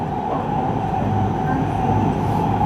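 The Kansai Airport limited express Haruka runs on JR tracks in Osaka, heard from inside the train as a loud, steady rumble of wheels on rail with a constant hum and no distinct clicks.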